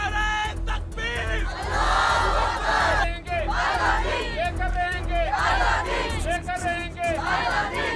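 Large protest crowd at a pro-Palestine rally in Pakistan chanting a slogan response in unison, loud and sustained with repeated rising shouts and a dense murmur of voices beneath.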